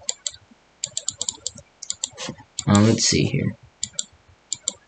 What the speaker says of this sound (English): I know y'all hear my mouse clicking.